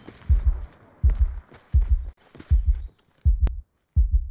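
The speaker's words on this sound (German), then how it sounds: "Der Puls nervt ein bisschen, wenn ich ehrlich bin." A video game heartbeat pulses in a steady, deep, close double thump, repeating about every three-quarters of a second, loud and alone.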